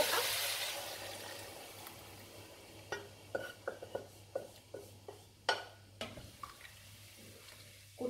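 Spoon stirring a simmering vegan Mediterranean vegetable stew in a pot, a quiet run of separate scraping knocks after a soft hiss.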